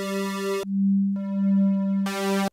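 Square-wave oscillator on a synthesizer with detuned stacked voices, steady buzzy tones that change pitch and timbre in several held segments, loud and clean with no talking.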